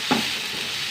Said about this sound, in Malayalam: തക്കാളി ഉള്ളിയൊന്ന് വഴണ്ടി വരട്ടെ